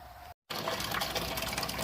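Hot water at about 152 Fahrenheit gushes into a homebrew boil kettle, a loud, steady rushing pour that starts after a brief silent gap.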